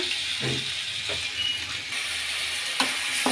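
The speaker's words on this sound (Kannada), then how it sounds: "ಈಗ ಟೊಮೊಟೊಗೂ ಒಂದು ಫ್ರೈ ಹಾಕ್ಕೊಳ್ಳೋಣ ಚೆನ್ನಾಗಿ ಫ್ರೈ ಆಗಲಿ" Tomatoes with ginger fry in a pan for a cumin-flavored potato palya, a close steady sizzle and hiss broken by a few soft scrapes of stirring, with no talking.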